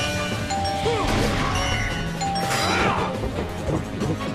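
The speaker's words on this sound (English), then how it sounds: "Why is it a doorbell noise?" A chiming doorbell-like tone rings amid cluttered game sounds, music and impacts in a Sonic Unleashed werehog stage, with ringing harmonics fading in and out.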